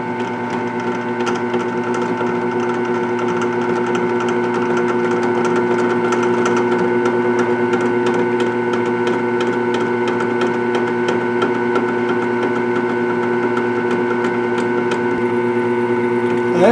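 A carbide bit grinds slowly into a hard steel part for an SKS rifle disassembly tool, a steady droning tonal hum of machine and cutting noise that stays constant and close throughout.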